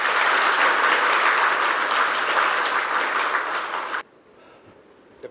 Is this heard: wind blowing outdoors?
no